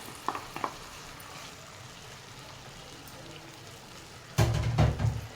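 Cleaned thirachi fish goes into a hot pan, and after a quiet stretch with faint clinks, a sudden loud, crackling sizzle bursts up near the end and keeps spitting.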